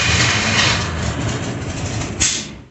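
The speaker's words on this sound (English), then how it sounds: "you'll actually get to hear the engine itself run without me applying any throttle" Steady engine idle from a Jeep running with no throttle applied, a continuous loud rumbling hum with a slight bump near the end, heard alone without speech.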